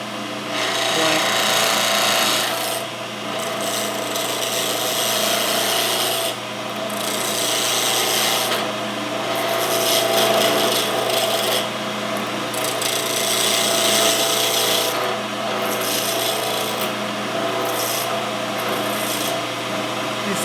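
A gouge cuts a wooden pen blank spinning on a lathe, a loud, steady rasping that runs the whole time as chips fly off, with brief breaks when the tool lifts away.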